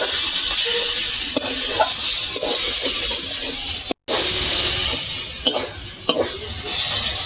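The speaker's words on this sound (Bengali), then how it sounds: "পনেরো মিনিট ধরে আমি মশলাটা ভালো করে কষিয়ে নিলাম।" Spice masala for an eel fish curry frying hard in a pan, a loud steady sizzle and hiss with occasional scrapes of stirring and a brief dropout partway through.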